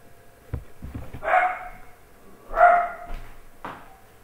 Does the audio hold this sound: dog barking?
yes